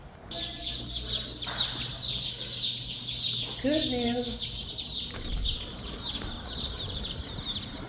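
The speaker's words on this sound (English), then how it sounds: "So I am heading to get my 40 chickens." Forty meat-bird chickens from a hatchery cluck and chirp in a steady, busy chorus, with a few sharper calls rising briefly, while a person speaks over the flock.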